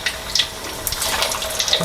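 Tofu fries in hot oil, crackling and sizzling in a dense hiss dotted with small pops and spits that continues throughout, with no talk.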